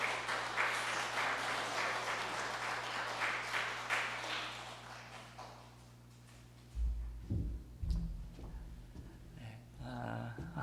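A church congregation applauds during a Sunday service as flowers are presented to longtime members; dense clapping runs for several seconds, then fades as a voice speaks.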